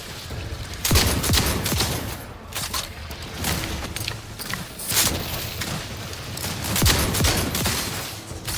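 Enemy gunfire in The Outer Worlds 2 comes as loud bursts of shots in uneven clusters, sharp cracks roughly every second or two over a rumbling combat background, with no talking.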